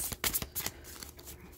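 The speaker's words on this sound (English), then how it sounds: "Hope that shuffling isn't too loud." Oracle cards shuffled by hand in a few quick papery flicks and taps, close and moderately soft, alone without talk.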